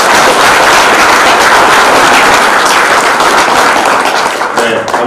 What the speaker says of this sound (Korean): 이러한 자리를 만들어준 우리 지역 청년들에게 응원의 의미로 큰 박수 한번 부탁드리겠습니다